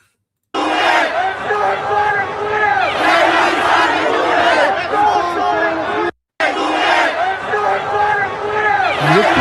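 A large protest crowd in Iran chants and shouts in unison, a loud, dense roar of many voices that continues steadily with a brief cut partway through.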